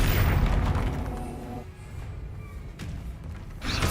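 Loud booming blast from the Confringo explosion spell in Hogwarts Legacy, with a heavy thud up front that decays into a rumbling tail before a second burst flares near the end.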